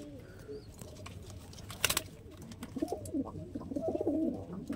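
Lalsira and Teddy pigeons cooing nearby, soft repeated throaty coos rising toward the end over a low background murmur, with one brief sharp rustle.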